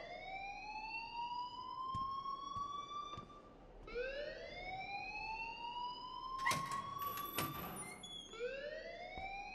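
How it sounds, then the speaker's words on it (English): A school fire alarm in the game Life is Strange wails as a rising, repeating siren sweep, loud and continuous, with brief clanks and thumps breaking in partway through. "please turn off that alarm"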